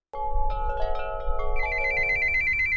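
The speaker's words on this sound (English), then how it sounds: "A payphone ringing in a front yard." A payphone in a residential front yard rings loudly up close, its electronic ringtone starting abruptly and going on as sustained bright tones that shift to a higher pitch partway through, with no talking.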